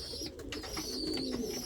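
Pet pigeons with feathered muff legs and snap bands coo in a pen, soft repeated throaty calls close by, with faint rustling and a high background whine.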